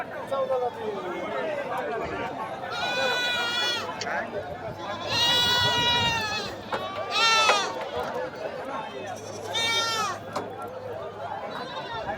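Goats bleat repeatedly in bursts at a goat and sheep market in Kashti, India, over a busy background of crowd chatter and talking voices, the calls loud and close.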